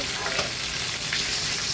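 Pabda fish frying in oil in a pan, a steady close sizzle and crackle that holds evenly for the whole span with no voices.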